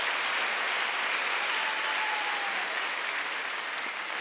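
A church congregation applauding during a sermon, a continuous, even wash of many hands clapping, fairly loud and unbroken.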